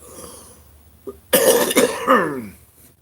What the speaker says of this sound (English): y'all have had to listen to me cough practically the whole time